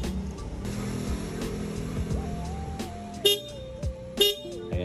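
A stock motorcycle horn beeps a few times in short honks over a steady engine rumble and background noise, the last blasts loudest and nearby.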